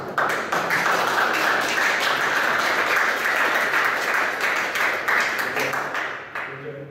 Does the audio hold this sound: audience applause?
yes